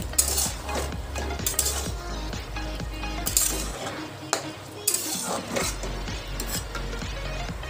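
A spoon stirs dhaba-style chana masala in a pot after chopped coriander leaves go in, making repeated scraping taps and soft clatter over a faint sizzle and a low steady hum.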